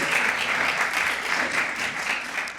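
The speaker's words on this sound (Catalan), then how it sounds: "us puc demanar un aplaudiment per veure que això ha començat un poc" An audience claps steadily at a book presentation event, a dense, continuous wash of applause that stays loud throughout with faint voices mixed in.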